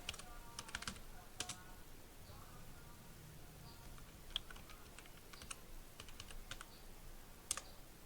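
Irregular clusters of keystrokes on a computer keyboard, typed in quick short bursts with pauses between them, close and fairly quiet over a low steady room hiss.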